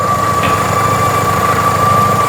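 A Fiat Seicento engine idles steadily at 800 rpm, a continuous close-up hum with a constant tone and no pauses, heard alone.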